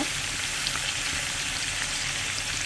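Pieces of chicken frying in a pan with oil, a loud, steady sizzle that holds close and constant throughout, with no voices.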